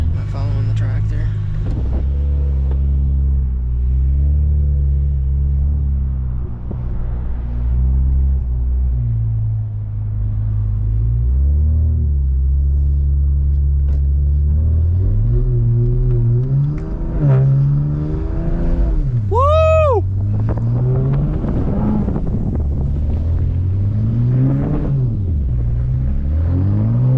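A lowered BMW 335xi pushes through about a foot of deep snow, its engine rumbling and revving in repeated surges, close and loud throughout, with people talking over it.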